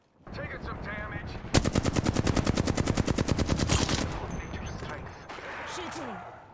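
Rapid automatic gunfire in the video game Apex Legends, a dense, steady burst of loud shots lasting a few seconds, with scattered game sounds and effects before and after.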